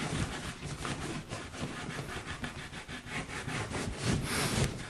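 Fingers rub Bullhide canvas wax into the seams of fabric, producing close, continuous scratchy rubbing strokes in an irregular back-and-forth rhythm with no talking.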